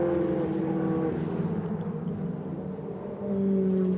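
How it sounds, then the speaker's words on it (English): Ferrari Challenge race cars pass on the Le Castellet circuit, high engine notes falling in pitch as they go by, one howl fading and another car rising near the end. "the back-marking car of Al Hegyi tries to get out of the way of the faster cars that are coming through"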